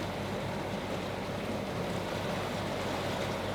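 A sailboat at sea motoring at about 1,200 RPM through ocean waves, giving a steady, loud wash of water and low engine rumble that holds even throughout with no talk.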